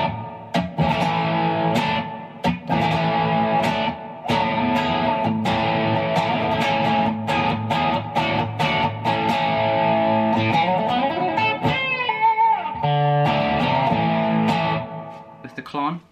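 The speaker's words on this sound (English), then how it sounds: "This is a Vox style amp." Electric guitar played through a Boss IR-200 with a Vox-style Dimond amp simulation and a Klon-style overdrive, distorted chords and riffs with bends in a continuous phrase, near and clear.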